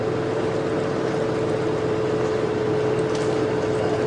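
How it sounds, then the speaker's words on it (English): Safari game-drive vehicle idling among elephants at Djuma Game Reserve, a steady low engine hum with a constant tonal whine, unchanging and moderately loud, with faint background sounds. "that's the reason why I've got the vehicle engine running"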